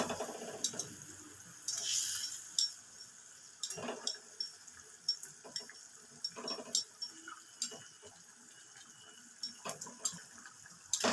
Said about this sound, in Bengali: এবার আমি এক বাটি জল দেব।